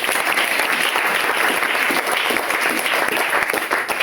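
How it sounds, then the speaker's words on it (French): A church congregation applauds for Jesus during a worship service, a dense, loud, steady wash of clapping from many people filling the room. "Acclame très fort Jésus"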